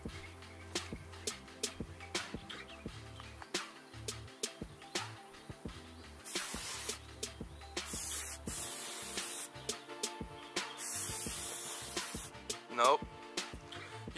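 Axe body spray from an aerosol can, heard as two long close hissing sprays against a quiet background with scattered clicks and handling knocks.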